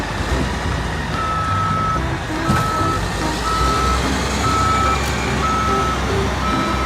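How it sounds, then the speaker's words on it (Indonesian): A wheel loader's reversing alarm beeps in a steady, evenly spaced series over a low engine rumble, loud and close, with no talking. "Yang ini namanya mobil loader ya."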